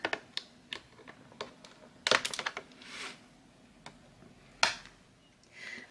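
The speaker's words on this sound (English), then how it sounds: "Let's go ahead and snip her out." Scissors snip a Miraculous Ladybug Purple Tigress toy doll free from its cardboard and plastic packaging, giving a series of sharp, close clicks and cuts spaced irregularly, with a louder cluster midway through and quiet gaps between.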